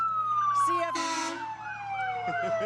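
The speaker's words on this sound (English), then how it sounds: "the sirens are something else" A fire truck siren wails nearby at a parade, its pitch sweeping slowly downward, with short horn-like blasts and faint voices in the background.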